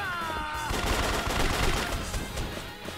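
Shotgun blasts in Yakuza 3 Remastered, dense booming gunfire filling the moment over game music and noise, loud and continuous without clear pauses.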